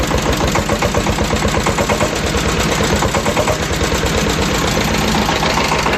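A ZS1100NM single-cylinder diesel engine, as fitted to Shifeng SF 160 and Bulat SF 200 walk-behind tractors, idles close by with a loud, steady rapid knocking beat that holds evenly throughout, with no voices.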